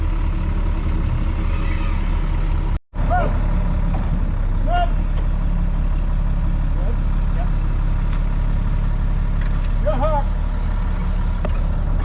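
A race truck's engine running at a steady low idle, a constant deep rumble close by, with a brief dropout and faint voices and shouts in the background.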